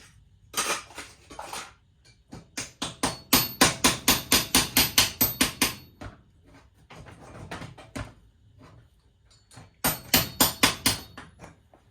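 A hammer drives a punch against a tight pin in the coin mechanism of a 1951 Vendo 39 Coke machine, with sharp metallic blows close by in several rapid bursts separated by short pauses.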